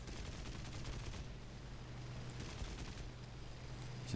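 Aircraft guns firing in the War Thunder air battle, a steady continuous rattle of gunfire over a droning engine, loud and unbroken throughout without speech.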